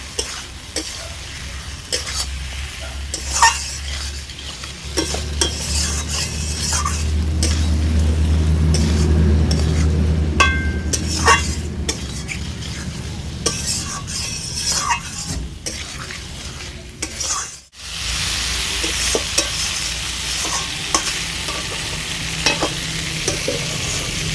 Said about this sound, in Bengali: সব কিছু ভালো করে কষিয়ে নেবো